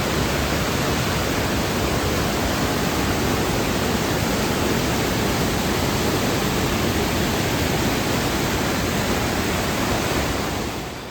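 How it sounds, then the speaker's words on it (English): Waterfall in a New Zealand fjord: a steady, loud, broadband rush of falling water that runs unbroken and eases slightly at the very end, with no voices. "Bonus is you got a nice waterfall right here."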